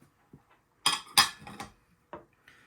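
Yellow Yukon Gold potatoes with skins on dropped into a cooking pot in an RV kitchen, a few sharp knocking clunks in quick succession, close and fairly quiet, then a couple of lighter taps.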